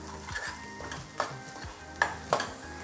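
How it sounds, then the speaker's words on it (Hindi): Spices frying in hot oil for a Patwadi rassa, a steady close sizzle broken by a few sharp scrapes and clinks of a stirring spoon against the pan, with no talk. "तो इन मसालों को हमें तेल में 2 मिनट के लिए भून लेना है।"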